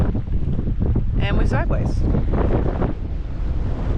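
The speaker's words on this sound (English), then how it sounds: "the wind is southerly coming from that direction" Heavy wind buffets the microphone on a boat at sea in a southerly wind, a loud, continuous low roar. Someone speaks briefly over it.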